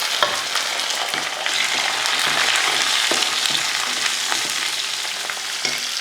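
Onions, tender bottle gourd, tomatoes and a little salt saute in a pan with a steady, close crackling sizzle and occasional stirring scrapes, with no voices.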